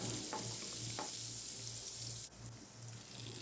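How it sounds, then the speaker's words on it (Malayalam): Garlic, ginger and chopped vegetables sauté in a pan for upma, giving a quiet, steady frying hiss with a few light stirring scrapes and a low background hum. "ഒന്ന് നല്ലപോലെ വഴറ്റി കൊടുക്കാം."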